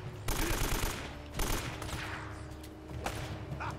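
AK rifle fire from Uncharted: Drake's Fortune, heard as sharp automatic bursts that start loud and trail into a fainter, continuing exchange of shots.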